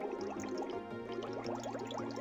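Drinking water in the video game Deus Ex: a short burst of liquid gulping and gurgling sounds with dense bubbly detail, steady and moderately quiet, heard alone.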